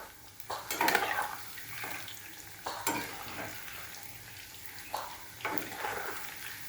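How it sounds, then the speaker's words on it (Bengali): Chicken lollipops fry in a pan while being stirred, with a spatula scraping and clinking in repeated bursts over a constant, quiet sizzle close by. "এখন ঘাটার পালা"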